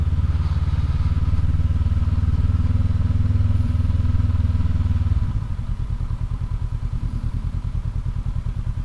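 A 2019 Honda CB500X motorcycle ridden through snow in Oregon: its engine drones steadily and close, then eases into a lower, pulsing throb about halfway through as the throttle drops.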